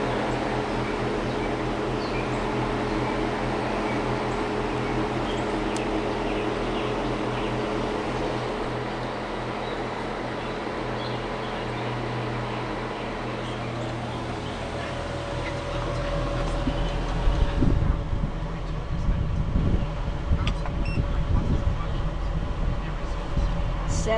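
Minivan roof-mounted air conditioner running on high fan at 63 degrees, a loud steady airy drone with tonal hum that grows rougher and heavier in the final stretch, with no voices.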